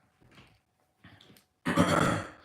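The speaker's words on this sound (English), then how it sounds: "That's the cough right there, guys." Two short quiet throaty sounds followed by a louder, harsh cough-like burst lasting about a second, close to the listener.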